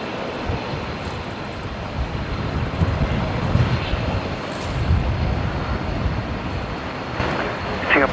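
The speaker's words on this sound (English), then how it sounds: "Just watching one of the Fokkers that's just pushed down there at the velocity apron." A Fokker airliner starting to taxi after pushback on an apron at Brisbane Airport gives off a steady, broad engine roar that swells slightly and holds throughout, heard from a moderate distance.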